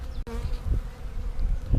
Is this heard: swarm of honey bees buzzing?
yes